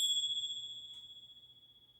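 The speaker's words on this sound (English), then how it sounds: "So here are the bells." Lotus-decorated sound healing bells rung together give a bright, pure ring that hangs and fades slowly over two seconds, with a gentle pulsing shimmer as the tone decays.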